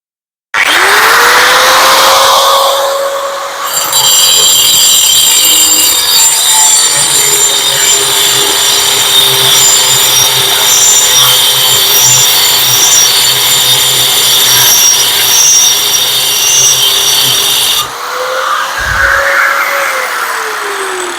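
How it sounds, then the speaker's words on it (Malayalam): A small piece of rock is cut with a powered saw: a loud, continuous grinding whine runs for about fifteen seconds, with a motor humming alone just before and after the cut. "അടുത്ത നമുക്കൊരു ചെറിയ പാറയുടെ കഷ്ണം ഒന്ന് അറുത്ത് നോക്കാം"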